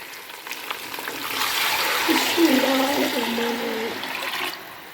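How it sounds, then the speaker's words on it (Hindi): Water is poured into a cooking pot of fried spice masala, a steady rushing pour with sizzling that swells for about four seconds, loud and close, with no talk. "हम इसमें पानी शामिल करेंगे।"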